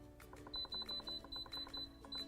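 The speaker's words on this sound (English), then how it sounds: "we're gonna go ahead and push the pressure cooker manual button" An Instant Pot pressure cooker gives a string of short, high electronic beeps as its buttons are pressed. About nine quick chirps come in an uneven rhythm, close and fairly quiet, with faint button clicks between them.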